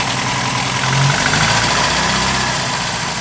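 A 1961 Sunbeam Alpine II engine idles cold without choke, a steady loud mechanical drone with a faint ticking, uneven pulse running through it from start to finish, no voices.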